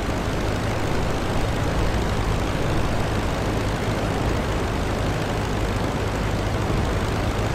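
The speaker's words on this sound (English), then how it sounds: "And my engine does sound kind of weird," Albatros D.III biplane engine in the Rise of Flight game, a steady loud droning propeller roar that runs continuously without a break.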